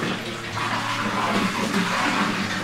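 Pond water flows by gravity into a farm tank of about 1600 litres, making a loud, continuous rushing and splashing that stays steady throughout.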